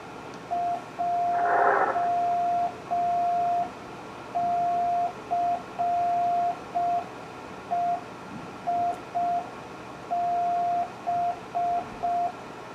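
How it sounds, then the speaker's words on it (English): A Yaesu FT-450D transceiver sends Morse code practice groups of five characters as a steady single-pitch tone, keyed in clear dots and dashes with short gaps, close and moderately loud, over faint background hiss. "it will send out 5-character sets of Morse code"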